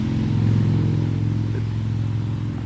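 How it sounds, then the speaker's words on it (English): Steady engine drone of a motorcycle or truck climbing a hill on a quiet sunny road, a continuous low rumble with no talking. "I think there's a motorcycle or a truck coming up the hill, so I apologize for the noise."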